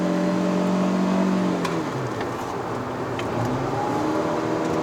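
A 2022 Proton Persona 1.6 Standard CVT climbing a mountain road, its engine droning steadily from inside the cabin, the pitch dropping and resettling around the two-second mark as the transmission changes ratio.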